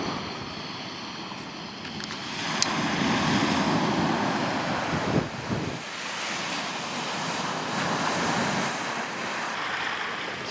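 Sea waves crash and wash onto a fishing shore in strong wind, a broad continuous roar with surging swells and buffeting wind noise on the microphone, no voices.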